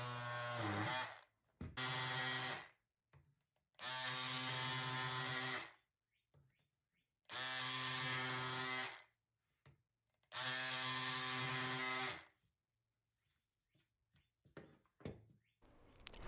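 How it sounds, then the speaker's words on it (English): Electric scissors cut fringe into a thrifted sweater in five separate buzzing bursts, each about one to two seconds long, loud and close, with quiet pauses between and a few small clicks after the last cut. "And you don't have to use electric scissors."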